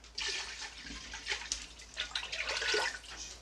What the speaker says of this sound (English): Alright, so I'm going to use 2 jars of my broth.